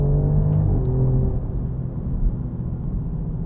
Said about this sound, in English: It's so linear, the way these pads are slowing this car down.